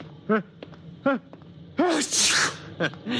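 Short vocal bursts lead into a loud, breathy sneeze that bursts out suddenly near the middle, followed by brief voiced sounds.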